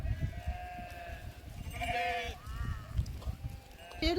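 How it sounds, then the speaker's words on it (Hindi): A gathered herd of goats bleats at dusk beside a nomadic camp of tents, several wavering calls overlapping at moderate distance over a steady outdoor rumble, with no talk. "तो बकरी काफ़ी जमा हो गई है।"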